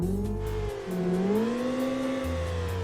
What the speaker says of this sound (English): Let's rev it.